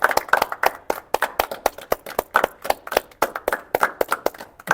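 A small studio group claps during a podcast, a sparse run of distinct, uneven hand claps with audible gaps, close and fairly quiet, no talking over it.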